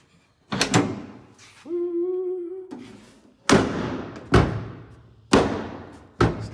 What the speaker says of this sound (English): we have a door that now functions